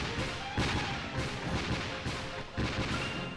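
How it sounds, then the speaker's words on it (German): Loud Dark Chronicle video game gunfire crackles nonstop, with heavier bursts hitting every second or so over a dense, noisy battle backdrop. "Der hält schon allein 4 Schüsse von Steve aus."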